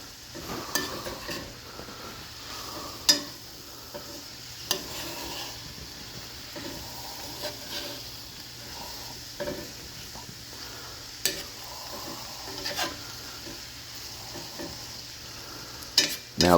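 Chicken and seasonings with red pepper flakes being stirred in a sizzling pan, a steady frying hiss broken by repeated clicks and scrapes of a utensil against the pan, close and without talk.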